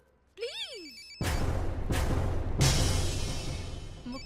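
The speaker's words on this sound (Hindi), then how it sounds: "मुक्ति कपूर का फोन।" A phone rings with a short warbling electronic tone, then loud crashing, clattering noise from a film scene takes over and drowns out the ringing.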